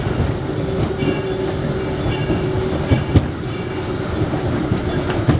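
Steam train on the Disneyland Railroad rolling along its rails, a loud, continuous rumble with rhythmic clickety-clack of wheels over track joints and a faint squeal, heard from aboard the ride.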